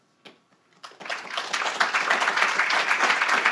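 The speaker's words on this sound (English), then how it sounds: "I can see everyone clapping." An audience at a talk bursts into sustained applause after a couple of isolated claps, the many hands blending into a dense, even roar of clapping that holds steady to the end.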